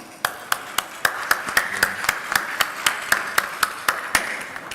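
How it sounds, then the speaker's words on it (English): A single pair of hands claps at a steady, even pace, about three claps per second, crisp and close, with no crowd joining in. "A round of applause, if you would, please."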